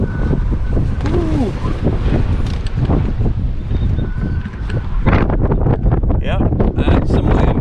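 Strong wind buffets outside a small aircraft cockpit after landing in Duluth, a loud continuous roar with gusty microphone rumble, and a voice briefly speaks over it.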